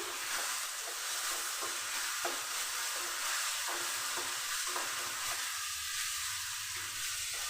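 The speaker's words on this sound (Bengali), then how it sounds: "মশলা কষে নিচ্ছি" Masala spices frying in oil for a tangra fish curry, with a small splash of water added over a medium gas flame, give a steady dense sizzle and hiss throughout, broken by repeated stirring scrapes in the pan.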